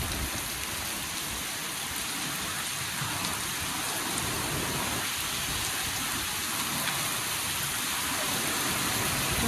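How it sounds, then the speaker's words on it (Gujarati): Heavy rain roars continuously at a constant level, with a deep low rumble of distant thunder underneath. "પહેલી વાર આટલો વરસાદ આવ્યો"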